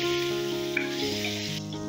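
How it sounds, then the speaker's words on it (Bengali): Pointed gourd (potol) pieces frying in hot oil in a pan, giving a steady, close sizzle with faint stirring, no voices. "এবারে ওই তেলেই আমি পটলগুলো ভেজে নেব।"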